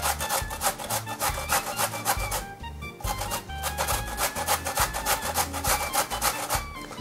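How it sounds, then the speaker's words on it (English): Food being grated by hand on a hand grater, a steady loud rhythmic rasping of repeated strokes with one brief pause partway through. "I do find that grating it with a hand grater is just as good"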